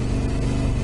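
A Yamaha T700 motorcycle putters along in first gear carrying two riders, a close, steady low engine drone with a rough pulsing texture and no speech.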